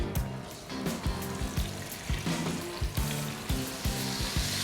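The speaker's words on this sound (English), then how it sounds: "We're going to go ahead and add the pork to the pan." Chunks of pork shoulder sear in hot melted lard in a pan, giving a close, crackling sizzle with repeated sharp spits and pops in an irregular rhythm. No one speaks.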